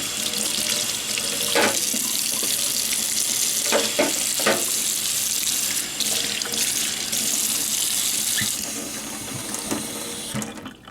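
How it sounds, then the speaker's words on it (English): A circuit board from a Super Vectrex multi-cart is rinsed under a running sink faucet, with steady splashing water throughout and a few sharper clunks and knocks as the board is handled. "And I'm going to rinse it in the sink."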